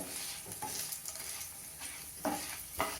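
Chopped tomatoes and a small onion sliced lengthwise are stirred in a pan, giving a soft steady sizzle with a few louder scraping stirs near the end, close up and with no talking.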